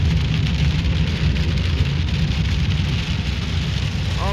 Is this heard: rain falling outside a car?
yes